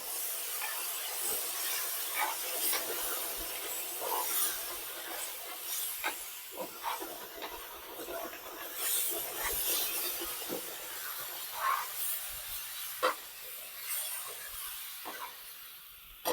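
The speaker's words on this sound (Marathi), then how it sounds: "आता जे पाणी आपण ठेवलं होतं साईडला उकळायला चाचणी, साखर टाकलेली. आता ते आपण ह्यामध्ये टाकूया पाणी." Boiling sugar water is poured a little at a time into roasted wheat flour for sheera, giving a continuous close hiss with sputtering bursts and a few sharp crackles.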